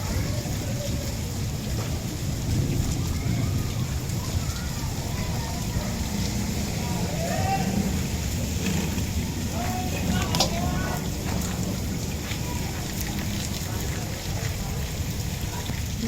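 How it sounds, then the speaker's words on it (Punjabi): Steady rain falls outside a village home after a long dry spell, a dense continuous hiss close by throughout, with faint voices mixed in the background. "ਕਾਫੀ ਅਰਸੇ ਬਾਅਦ ਇੱਥੇ ਬਾਰਿਸ਼ ਹੋਈ ਆ"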